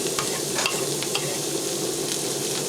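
Chanterelle mushrooms and diced onion fry in butter with a steady close sizzle, broken by a few brief scraping stirs and clicks of the utensil in the pan.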